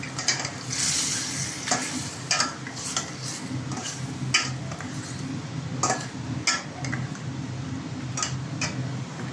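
Chicken curry is stirred in a pan over low heat after about two spoons of mustard go in, with a low bubbling sizzle and repeated light utensil clicks and scrapes against the pan, no voices.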